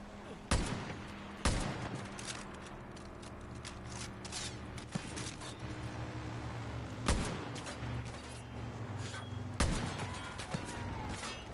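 Video game gunfire that sounds like pellet guns: a handful of sharp, spaced shots over a mechanical whirring background, each crack short and punchy, fairly quiet overall.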